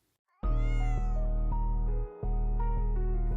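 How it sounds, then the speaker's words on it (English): A house cat meows loudly and close by, one long drawn-out call followed by a few shorter, wavering meows in a continuous run. "Cats are known for their meows"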